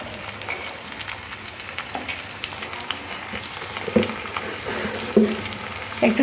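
Chopped tomatoes and salt fry in a pan for a chicken curry, giving a steady close sizzle with a few brief stirring clatters toward the end.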